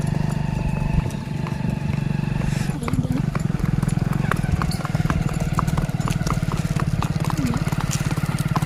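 A horse walks with rhythmic hoof clip-clops under a steady low engine-like drone and continuous talk, the hoofbeats repeating evenly throughout.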